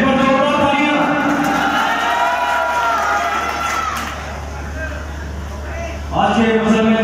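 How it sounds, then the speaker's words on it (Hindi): A large audience at a Mr UP bodybuilding championship final keeps up steady, loud crowd noise with clapping and cheering throughout, beneath continuous amplified announcing, swelling again near the end. "एक बार जोरदार तालियां।"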